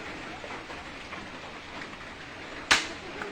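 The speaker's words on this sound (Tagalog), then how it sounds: "Nabutan na kami ng ulan." Steady, fairly quiet hiss of rain falling on a surface, broken near the end by a single sharp knock.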